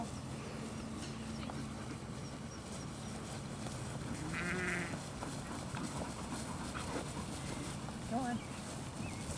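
Sheep bleat in short calls amid a noisy outdoor field while a poodle herds them, with a faint voice talking in the background and one brief, louder bleat standing out near the end.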